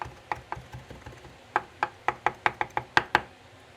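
Knife chopping pork on a cutting board for sweet and sour pork, a quick run of sharp, close knocks that starts sparse and speeds into a steady rhythm of about a dozen strikes, with no talking.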